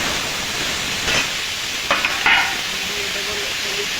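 Potatoes fry in oil in a wok with a steady crackling sizzle, punctuated by several short scraping and clinking stirs in the middle, close and fairly loud, with no talking.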